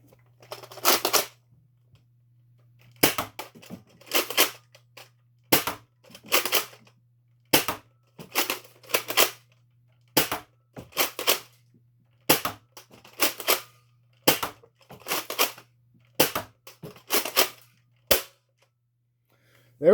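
A Nerf Rival Apollo blaster fires foam balls in a long series of sharp, loud snapping shots, spaced about a second apart, close up with near silence and a faint hum between them.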